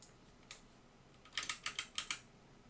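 Keys pressed on a computer keyboard during spreadsheet work: a single tap, then a quick burst of about six clicky keystrokes in a fast, even rhythm, close and fairly quiet with no talking.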